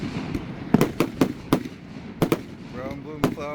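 Firecrackers and fireworks go off in about ten sharp, loud bangs at irregular intervals, some in quick pairs, and a voice is heard near the end.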